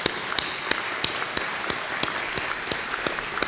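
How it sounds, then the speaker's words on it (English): Audience applause for visiting dignitaries at Kitchener Mayor Berry Vrbanovic's State of the City Address, a steady, moderately distant wash of clapping with sharper individual claps popping out at regular moments, no voices. "give a round of applause to our dignitaries who are with us today"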